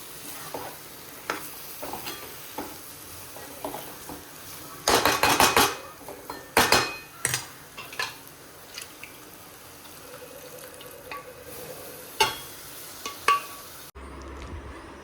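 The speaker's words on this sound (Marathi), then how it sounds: "त्याला छान मिक्स करायचं आणि लागेल तेवढं पाणी टाकायचं" Ground chole and potato being stirred in a metal pot, with scattered clanks and scrapes of a spoon, a loud burst of clattering mid-way, and faint sizzling in between.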